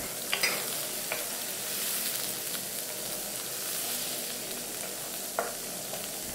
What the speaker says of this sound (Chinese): 就把打散的蛋液倒入锅内翻炒均匀